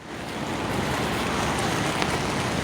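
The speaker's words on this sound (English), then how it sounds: "It's raining." Rain falls steadily outdoors at night, a dense broadband hiss that swells in at the start and then holds even and fairly soft, with no voices.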